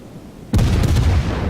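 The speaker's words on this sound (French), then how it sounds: "un obus qui touche, c'est pas énorme" Naval shell striking a ship in World of Warships, a sudden heavy boom that bursts out of near silence and rumbles on with a dense, crackling tail, loud and close.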